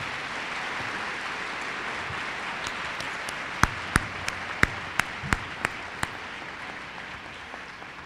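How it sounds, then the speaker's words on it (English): A crowd at the 2009 IHSA speech individual events state finals applauds steadily throughout, a soft continuous wash of clapping heard from a distance, with a few sharper, closer claps standing out near the middle. "So if you could applaud really loud"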